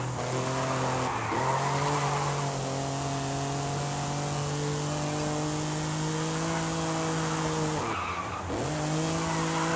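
Race car tires squeal loudly and continuously through a turn in Forza Horizon 5, over a high engine whine that dips briefly twice as gears shift, with no voices.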